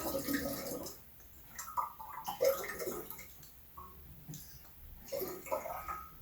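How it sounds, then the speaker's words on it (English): Water is poured through a funnel into a one-gallon glass wine jar while making pomegranate wine, giving a soft, irregular trickling and gurgling at close range with brief pauses. "let's just bring the water up"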